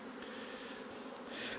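Honeybees swarm around an opened beehive during a beekeeper's inspection, a soft, steady buzzing drone with a slight swell toward the end, faint and close with no talking.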